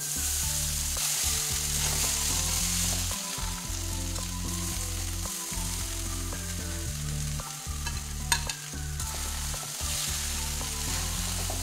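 Poha mixed with cucumber fries and gets stirred in a pan: a steady close sizzle runs throughout, broken by repeated scraping and stirring strokes and an occasional sharp clink of the utensil, with no voices.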